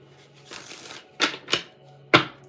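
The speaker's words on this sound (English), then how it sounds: "I need to shuffle one more time" A deck of oracle cards being shuffled in short bursts: a soft riffle, then three sharp crisp snaps of cards, close and alone in a quiet room.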